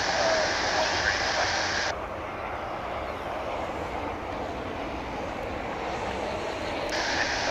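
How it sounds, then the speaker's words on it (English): Jet airliners arriving at DFW Airport produce a steady, broad engine roar from a distance, continuous throughout, with a brighter high whine at the start and end. "you will occasionally, as you do now, see 2 aircraft arriving at the same time."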